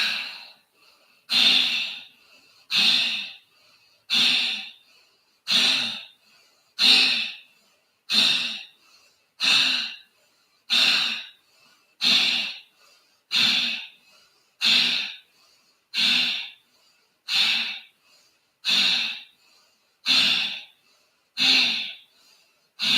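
Yoga breathing between rounds: about sixteen forceful, evenly spaced breaths through the nose, close and clear, each followed by a short silence.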